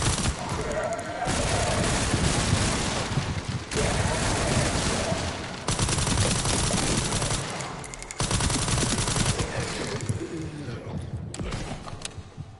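Enemy gunfire in the video game Resident Evil Requiem: loud, dense bursts of shooting fill most of the stretch, broken by a few short pauses, with faint sounds in between.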